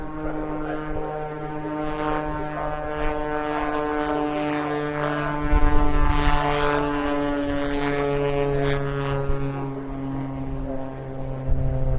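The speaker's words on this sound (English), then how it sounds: "this will begin with a knife edge pass down the display line, showing off the top surface of this aircraft" A propeller aerobatic aircraft flies a knife-edge pass along the display line at an air show, a steady droning engine with sustained harmonic tones that swells briefly midway, loud and continuous.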